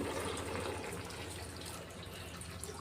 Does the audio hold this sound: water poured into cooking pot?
yes